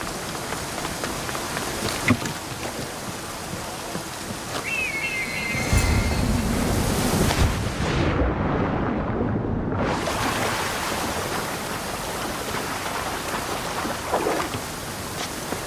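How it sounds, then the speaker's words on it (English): A waterfall in the video game Assassin's Creed Odyssey rushes steadily in a dense, broadband roar that fills the whole scene, loud and continuous with only a brief thinning of the spray midway. "This is the waterfall."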